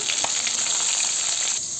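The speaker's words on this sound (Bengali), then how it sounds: "মাছগুলো এবার ভেজে নেবো।" Fish sizzling steadily in hot oil in a wok, a close, continuous crackling fry with no talk.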